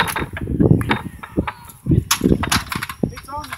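Texas Trebuchet, a whipper-type trebuchet, firing at a Sling Fest throwing event outdoors: a sharp release crack followed by mechanical thuds and clatter, with a crowd shouting and cheering around it.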